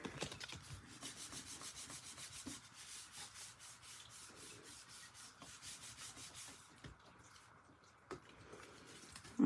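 Card paper being trimmed during valentine card crafting, a soft, steady rasping and rubbing stroke close by that continues for several seconds, then eases off near the end, with no talk.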